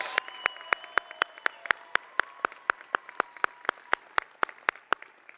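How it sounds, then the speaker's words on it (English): Crisp, evenly spaced claps at a school commencement ceremony, about four per second, repeat in a steady rhythm close by against a quiet background. "Please join me in a round of applause for these lifers and super lifers."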